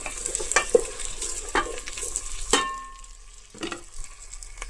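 Food being stirred and mixed in a pan with salt added, producing a low background sizzle and several scraping, clinking strokes of a spoon, busier at first and then quieter.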